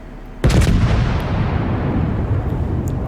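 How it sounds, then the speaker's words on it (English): A single heavy naval gun blast from a warship in World of Warships booms sharply, then rolls into a long, loud rumbling tail with no talk. "He pops a shot at the ship"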